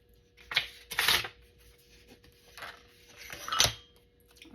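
Scissors cutting paper for a Christmas journal: a few quiet, crisp snipping and rustling bursts spaced apart, close up, with no voices.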